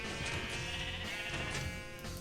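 Sheep bleat in Minecraft, a steady, close, continuous bleating cry that fills the whole moment with no talking over it.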